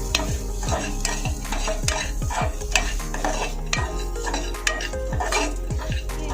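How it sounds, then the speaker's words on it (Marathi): Moth beans being stirred into an oily masala paste in a pan, with a spoon scraping and clinking against the metal in steady repeated strokes over a soft sizzle, close and fairly loud. "तेलामध्ये आपण मटकी टाकून घेऊया थोडीशीच मटकी टाकायची ते आता आपण या वाटणामध्ये आता चांगलं मिक्स करून घेऊया"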